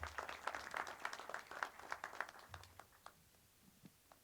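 Audience applause at a graduation ceremony at a sports club, steady clapping for several seconds that thins out toward the end, fairly faint and distant.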